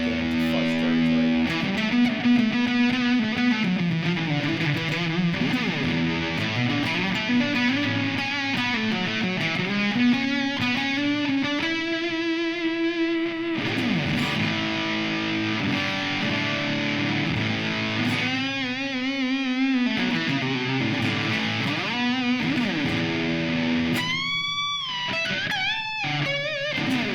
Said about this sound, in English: If I crank the gain on the boost, get into fuzz territory.